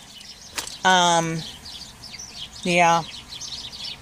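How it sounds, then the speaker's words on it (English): Birds chirping outdoors in two short, bright bursts of tweeting a couple of seconds apart over a quiet background, with a brief spoken word just before. "Can you hear all these birds?"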